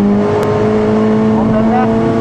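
Race car at speed on a track at Bedford Autodrome West circuit, steady engine drone with a rising pitch as power comes on through a turn, close and loud under an instructor's coaching voice.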